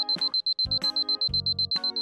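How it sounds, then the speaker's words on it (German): A cartoon alarm clock rings with a rapid, piercing electronic beep repeated in a steady fast pulse, loud and close, over brief musical cartoon sounds. "Ich hasse diese nervigen Wecker."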